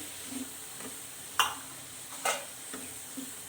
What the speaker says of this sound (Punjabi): ਮਸਾਲੇ ਪਾ ਕੇ ਆਪਾਂ ਚੰਗੀ ਤਰ੍ਹਾਂ ਇਹਨਾਂ ਨੂੰ ਭੁੰਨ ਲਵਾਂਗੇ